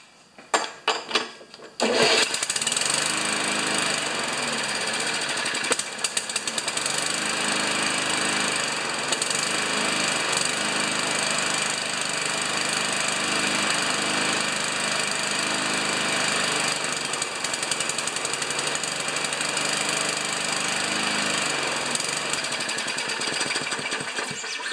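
A new lawn mower's engine starts after a brief sputter and then runs steadily and loudly at constant speed for over twenty seconds, a dense unbroken drone with no talk.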